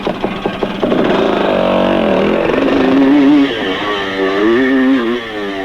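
A race car engine on a track accelerates hard out of a corner, its loud revving tone climbing and dropping with gear shifts, close and continuous throughout.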